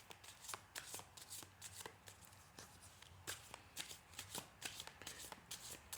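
Tarot cards being shuffled and laid out on a table, a quick run of close crisp riffles and light slaps at an uneven rhythm, faint and with no talking.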